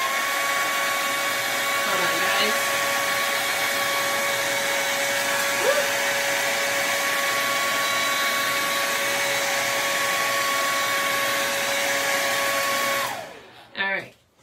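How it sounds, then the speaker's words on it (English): A hair dryer blows with a steady, loud whir for about thirteen seconds while heating a dollar store placemat, then cuts off abruptly; a brief voice follows. "I'm going to hit it with a blow dryer first."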